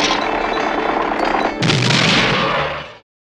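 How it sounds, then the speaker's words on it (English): Cartoon fireworks going off in a loud, dense barrage of crackling bursts, briefly thinning before a bigger booming blast that sustains and then cuts off abruptly. "I thought they outlawed fireworks!"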